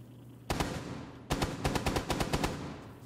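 Automatic gunfire in Rainbow Six Siege during a team deathmatch at the presidential plane: one sharp shot, then a rapid string of loud bursts at close range, with no talk.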